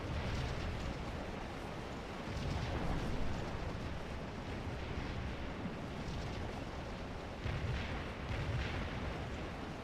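Artillery batteries firing across a Civil War battlefield in Scourge of War: Antietam, a steady roll of distant booms and rumbling reports layered over continuous battle ambience, with heavier thuds swelling around the third and eighth seconds.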